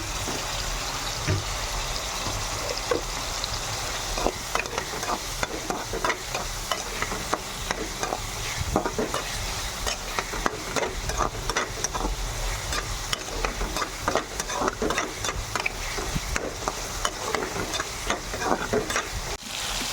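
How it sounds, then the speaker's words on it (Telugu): Tomato pieces fry in a pan for a brinjal and tomato curry, with a steady sizzle and frequent scraping stirs throughout, close and fairly loud, no voices. "ఇలాగా నీట్గా మగ్గేంత వరకు టమాటా ముక్కల్ని వేయించుకోవాలి"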